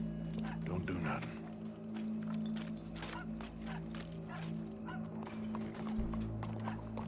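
Horse hooves clip-clopping in Red Dead Redemption 2, a steady rhythmic clatter of hoofbeats at moderate distance, set against a sustained musical drone with voices talking over it.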